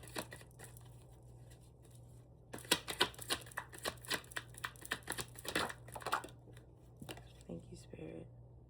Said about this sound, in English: I'm gonna pull two more cards.